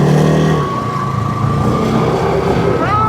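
Bajaj Pulsar motorcycle engine running loud and close, a steady throaty drone with a brief rev change at the start and a rising note near the end.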